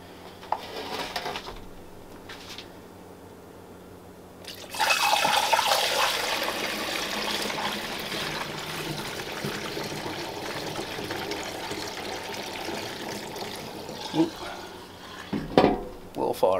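Homemade dandelion wine pours into bottles in a steady liquid stream lasting several seconds, then trickles, with a faint clink of glass near the end and a voice talking quietly at moments.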